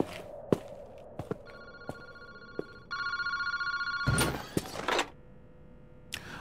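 An in-game phone booth telephone rings in Paranormasight, with bright, sustained bell-like ringing bursts framed by sharp clicks, thuds and clunks.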